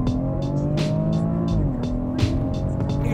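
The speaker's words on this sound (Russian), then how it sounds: "тормоз, газ, лаунч-старт включен" A BMW X3 M40i launching hard from a launch-control start, its engine roaring loud and close with rising revs and a faint tire squeal over steady road noise, no talk.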